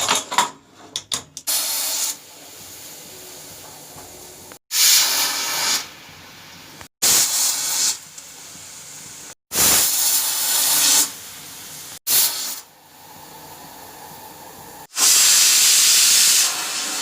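A pressure cooker on a gas stove vents steam while cooking mustard greens, loud hissing bursts of a few seconds each, separated by abrupt silences, with no talk.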